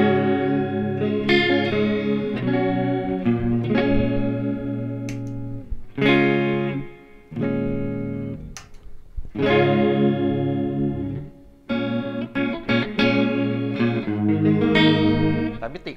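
Electric guitar run through the chorus mode of a Valeton Coral Mod modulation pedal, playing sustained chords and picked notes with a shimmering, widened tone; loud and close, with brief pauses between phrases.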